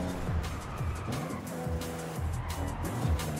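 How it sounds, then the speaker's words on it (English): A Jaguar E-Type drifting on a Forza Horizon 5 racing circuit: a steady engine drone with repeated rising and falling revs and tire squeal through the corner. "And just do some sweet drifts."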